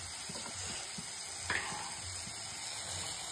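Spice paste sizzles steadily in a hot pan as water from the mixer jar is poured in, with a brief louder hiss burst midway and soft stirring scrapes underneath.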